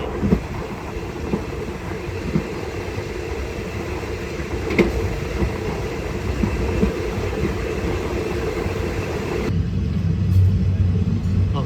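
Thai rapid train 135 on the Ubon line rolls along the rails near Nong Saeng, a continuous loud rumble and rattle of wheels and carriages heard from the rear of the train, shifting to a deeper, heavier roar near the end.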